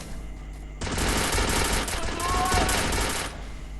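Sustained automatic gunfire in the Free Fire video game, a dense rapid burst lasting a couple of seconds after a quieter start, loud and close with a brief whistling tone mixed in.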